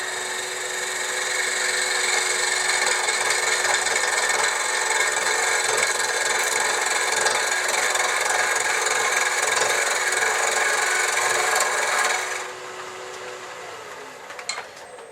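A wood lathe spins a rough, poor-quality blank as a tool peels off shavings, giving a loud, steady scraping hiss and hum that runs unbroken before dropping to a quieter whir near the end.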